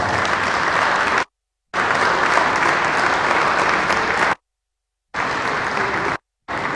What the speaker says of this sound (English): please give them an NBA round of applause